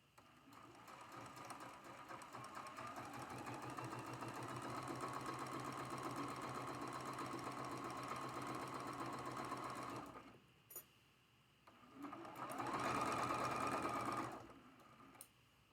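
A sewing machine stitches quilt block rows in a long steady whir, stops briefly, gives a short blip, then runs again in a shorter burst, close and fairly quiet.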